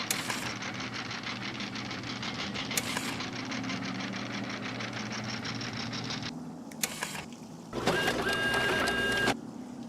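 A plotter machine running in a Nancy Drew video game, a rapid mechanical chattering drone that continues for several seconds, then stops and restarts in short bursts, fairly loud with no talk.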